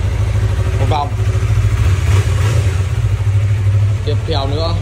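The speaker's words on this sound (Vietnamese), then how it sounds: "Tiếp theo nữa là Yamaha MT-03. Sáng nào cũng việc của anh chăn ngựa. Mở máy lên, nổ máy để cho xe nổ một vòng." A Yamaha MT-03 motorcycle engine runs steadily with a low, continuous rumble throughout, while someone talks over it in Vietnamese.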